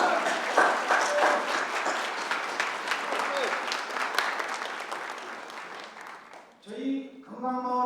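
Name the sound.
audience applause at a ceremony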